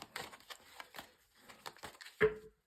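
Soft, papery riffling and slapping of tarot cards being shuffled in quick bursts, close and quiet, ending with a firmer tap.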